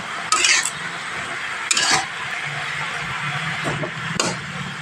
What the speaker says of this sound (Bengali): এইভাবে আস্তে আস্তে উপর নিচ করে সবজিগুলো দিয়ে দিতে হবে